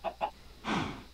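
Two short clucks followed by a longer, breathy squawk, close and fairly quiet, from a chicken in Minecraft.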